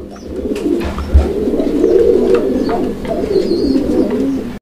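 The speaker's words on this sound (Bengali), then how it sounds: "আমরা এই মুহূর্তে দেখতে পাচ্ছি এখানে আরো একজোড়া লাহোরি কবুতরের কালেকশন আছে" Lahori pigeons, a pair of red Lahori birds in a loft collection, coo steadily in low rolling murmurs, with a few overlapping calls and faint chirps from other birds behind them, close and continuous.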